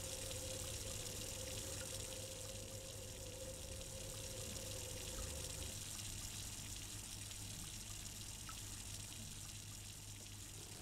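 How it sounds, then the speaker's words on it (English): Water running from a tap in the VR game A Chair in a Room: Greenwater, a steady, even hiss and rush that continues without a break. "Oh, there's some water."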